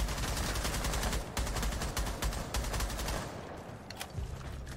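Heavy automatic gunfire in Rainbow Six Siege, several weapons firing in rapid overlapping bursts, loud and close, thinning into scattered shots near the end.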